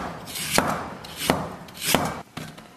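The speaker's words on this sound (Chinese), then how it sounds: "把姜给切成小片" A knife slices fresh ginger into thin pieces on a cutting board, making four crisp, evenly spaced chopping knocks close up, each with a short scraping rub.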